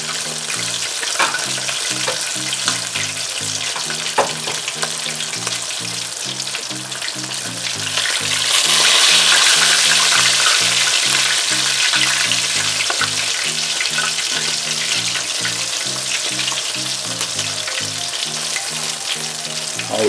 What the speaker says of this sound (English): I got another 3 pieces frying right now.